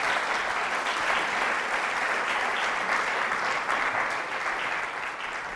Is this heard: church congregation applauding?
yes